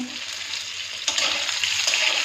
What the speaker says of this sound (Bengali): বেগুনটাকে আমি লাল লাল করে ভেজে ফেলবো